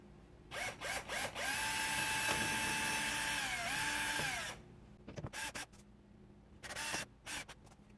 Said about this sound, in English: Dremel tool or whatever, so I can lead my wire down through